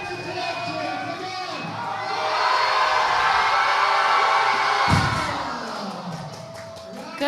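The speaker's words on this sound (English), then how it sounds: "The crowd is absolutely going wild for Go," A crowd at a powerlifting meet cheers and whoops wildly, a loud swelling roar that peaks mid-clip with a thud, then slowly fades, with voices shouting throughout.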